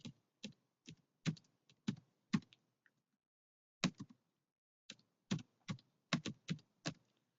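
Computer keyboard typed in short bursts of distinct, close key clicks while filling in a fee waiver form, with a pause in the middle and no talking.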